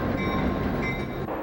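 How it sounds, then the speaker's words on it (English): A train rolls by on the rails, giving a dense, continuous rumble with faint high squeals, loud and close throughout without any talk. "This is a train."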